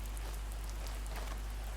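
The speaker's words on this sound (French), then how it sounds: "On entend la pluie, le ruissellement." Rain patters steadily with running water in the video game The First Tree, a soft, even wash of drops over a low constant rumble, with no voices.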